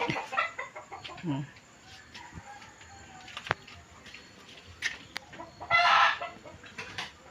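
Hens cluck intermittently in a quiet farmyard, with a louder burst of squawking near the end and faint voices in the background.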